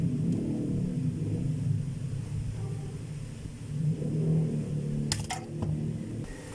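A DeWalt D25899 motor runs on a test bench in a steady, rumbling whir at moderate level, with a few sharp clicks near the end.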